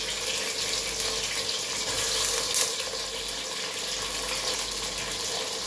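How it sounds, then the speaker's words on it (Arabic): Onions and pigeon frying in a pot for a Tunisian rice dish, a steady broadband sizzle with no pauses, loud and close throughout. "يتقلى هكا شويه"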